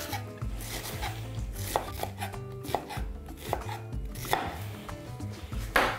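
A knife chops onion on a board in quick, uneven strokes, each close, crisp tap landing against a low background hum, with no talking.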